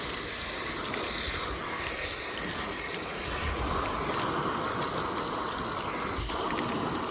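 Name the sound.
hose spraying water to rinse the pop-up camper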